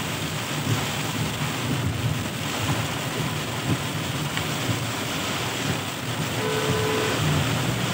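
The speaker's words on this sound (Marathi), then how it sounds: "किती जोराचा पाऊस आहे बघू शकता तुम्ही." Heavy monsoon rain on the road to a village, a constant loud hiss of downpour with a faint tonal hum near the end.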